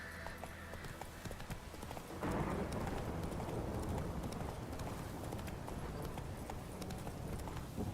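Horse hooves clip-clop steadily in a fantasy video game, the rhythmic hoofbeats growing louder and denser after a couple of seconds over a soft rain-like background, with no talking.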